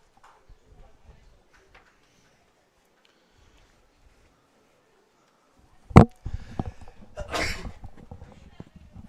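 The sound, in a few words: sneeze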